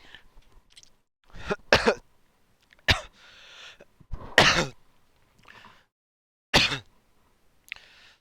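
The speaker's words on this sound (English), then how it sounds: "I got so mad there that I actually started coughing." A man coughs and clears his throat in several short, sharp bursts spread across the stretch, loud and close, with quiet pauses between them and no talking.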